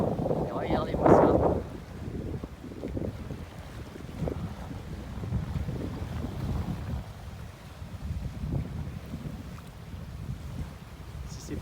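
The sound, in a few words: catamaran sailing at sea with wind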